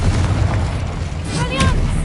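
A Confringo fire spell blast from the Hogwarts Legacy video game booms low and dense for about two seconds, with ringing magical tones sweeping through near the end.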